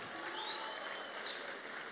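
Audience applause for a contestant at a Campus Party event, a faint, steady wash of clapping heard from a distance with no speech over it.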